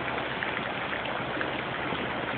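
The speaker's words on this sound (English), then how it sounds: "The creek is out of its bounds, and it's creeping this wave really," Floodwater from a creek that has burst its banks near a house in Goodlettsville, Tennessee, rushing in a steady, loud, broadband wash with no pauses and no voices.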